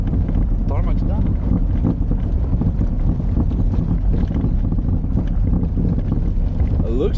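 Classic Mini driving from tarmac onto a dirt road in Greece, a steady loud low engine drone with rumbling road noise and wind buffeting throughout, a voice speaking over it.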